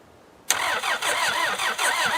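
A worn-out car is brought to life on a cold start, the engine catching abruptly out of near silence and then running with a steady, pulsing, rough idle close by.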